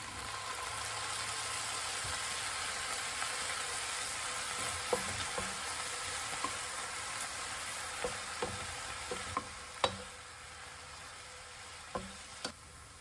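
Kimchi and fish cake stir-frying in a pan with soy sauce over low heat, giving a steady soft sizzle with scattered clicks and scrapes of stirring, close and continuous with no talking.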